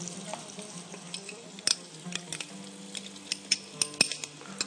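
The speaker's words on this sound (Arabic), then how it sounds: "تقلى البصل متاعنا دونك مع هذا، باش نزيدو شوية ثوم" Onions fry in a pan for soup with a steady close sizzle, broken by frequent sharp clicks and taps of a utensil stirring against the pan.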